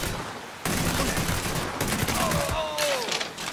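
Gunfire in the Mafia 3 video game, a dense burst of shots that starts abruptly and keeps going loud, with a whistling tone sliding through near the end.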